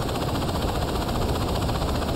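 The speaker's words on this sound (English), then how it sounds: "this was the first time that I flew a helicopter in a Saints Row game" Steady whirring drone of a helicopter flying in Saints Row 2, a dense continuous rotor and engine roar heard up close with no talk.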